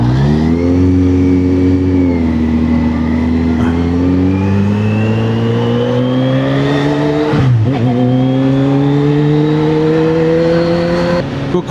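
A Kawasaki Z H2 motorcycle accelerates hard on a road, its engine note rising steadily through the gears with a brief dip at a shift, loud and close throughout.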